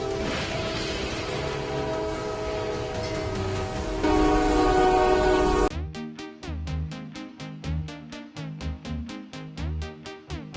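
A speeding train races toward a truck trapped on the tracks: a loud, sustained horn blast over rumbling rail noise, which then gives way to a rapid series of sharp rhythmic pulses.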